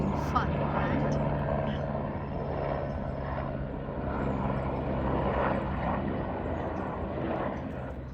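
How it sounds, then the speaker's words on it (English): A helicopter circles low overhead, its steady rotor and engine drone continuous and fairly loud throughout, with a faint blade thump pulsing underneath. "the helicopter is just surrounded my head"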